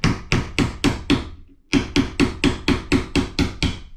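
A hammer strikes a chisel under a closet shelf during a remodel, a steady run of sharp metallic blows, a brief pause, then another quick even series, close and loud.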